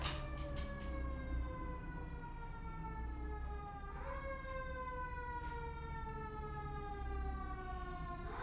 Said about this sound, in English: there goes the fire engine